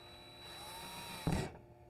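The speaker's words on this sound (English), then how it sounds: "Now I can actually put my drill bit, the drill part on the center." An electric drill bit pressed onto a center mark while building a DIY swamp cooler, with a steady motor whine, then a sudden loud burst of drilling that fades after about a quarter second.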